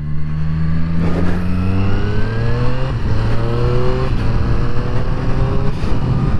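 A Triumph Triple RS motorcycle engine being run in on the road, loud and close, its pitch climbing through the gears with short dips between shifts.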